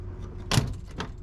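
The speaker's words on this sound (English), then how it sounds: "I am able to open the door" Door of a 1961 Imperial car with a bent, worn front hinge being opened: a single short click-thunk of the latch, followed by a fainter metallic clack, close by in a quiet garage.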